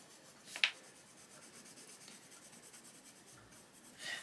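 Coloured pencil shading on paper, a soft continuous scratchy rub with one brief sharper scrape near the start and another toward the end, quiet and close.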